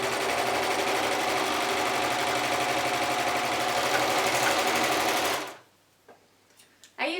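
A serger stitches two short edges of stretch fabric together for a child's neck binding, a loud rapid mechanical whir that runs steadily for about five seconds, then stops abruptly, leaving quiet handling clicks.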